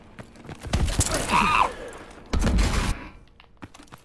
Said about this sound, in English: The little explosion back there.